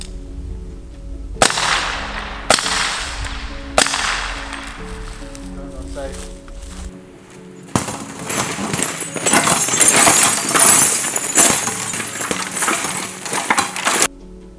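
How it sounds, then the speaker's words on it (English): Three sharp gunshots strike a tempered glass door fitted with 3M S2400 security film, spaced about a second apart and very loud, followed by a longer burst of cracking, crumbling glass and clatter as the filmed pane reacts in its frame. "We're gonna put 3 rounds through it and see how it reacts and see how it does in the frame."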